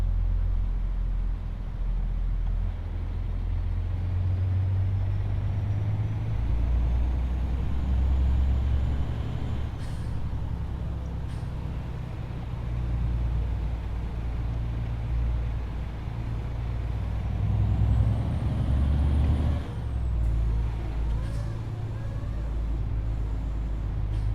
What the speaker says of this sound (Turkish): Çünkü otobüsün sesi çok fazla.